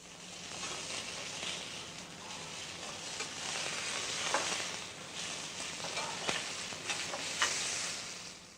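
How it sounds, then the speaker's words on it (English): Venison medallions seasoned with salt and pepper browning in hot olive oil, a steady close sizzle and crackle with occasional sharper pops, no voices. "The medallions are seasoned with salt and pepper and then browned in olive oil."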